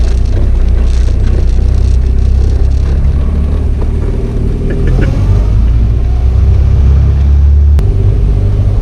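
A 1960 Triumph TR3 sports car on the move, its engine giving a loud, constant low rumble heard from inside the cabin, with no talking.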